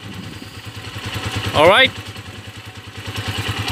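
A repaired Yamaha Mio scooter engine idles with a steady low, pulsing putter close by, while someone speaks a short word over it midway.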